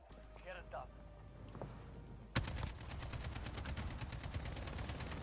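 Rapid video game gunfire bursts out in a steady automatic stream after a quieter opening with brief talk, continuing loud to the end.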